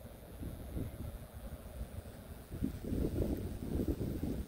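Low, rumbling gusts of wind buffet the microphone, swelling stronger toward the end, with no voices heard.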